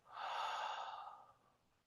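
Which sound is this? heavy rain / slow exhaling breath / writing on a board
slow exhaling breath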